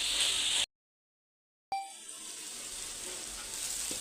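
Masala and mixed vegetables with curry leaves sizzle in a pan for poha, a soft continuous frying hiss that cuts out for about a second before resuming and gradually swelling.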